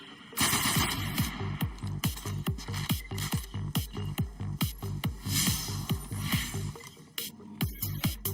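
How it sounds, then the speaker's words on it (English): Rapid automatic bursts from an auto rifle in the video game Destiny 2, a steady string of close, punchy shots repeating for several seconds with a brief pause near the end, no talking over it. "Is this the auto rifle? I think this is."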